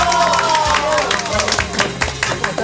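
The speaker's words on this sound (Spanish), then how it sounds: "Un aplauso." A studio audience claps as a guest is welcomed onto a Saturday television show, a short burst of busy, crackling applause mixed with crowd noise and a voice talking over it.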